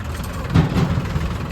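A motorbike engine runs nearby with a steady mid-low rumble that swells slightly midway, and no voices are heard.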